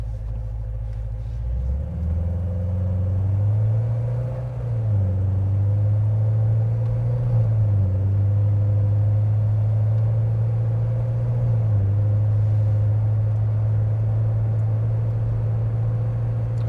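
Inside a 2015 Corvette Z06 pulling away, a deep engine rumble climbs and drops repeatedly as it shifts up through the gears, loud and steady with no talking over it.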